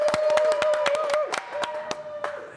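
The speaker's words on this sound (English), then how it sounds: "Can we get a round of applause to the warehouse team?" A crowd cheers and claps in a quick burst of applause for a warehouse team at a spring garage sale kickoff, the sharp claps loud and close, with a steady whistle-like tone running underneath.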